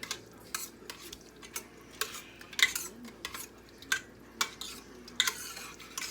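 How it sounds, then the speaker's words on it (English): A spoon scrapes and knocks around inside a pot of chicken corn chowder on low heat in a steady rhythm of soft strokes, with a faint simmer underneath. "Begin to stir it while it's on that low heat."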